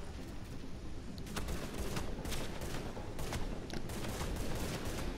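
Pistol shots crack out in a video game shootout, about a dozen sharp reports in an uneven rhythm over a constant noisy rumble of battle, heard without any talking.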